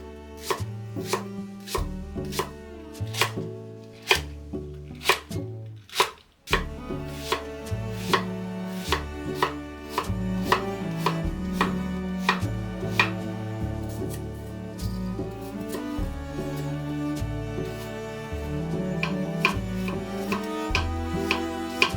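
A knife chops garlic and very hot chili peppers on a cutting board for a Korean spicy pork dish, a quick, steady run of close, crisp taps with a brief pause partway through and no talking.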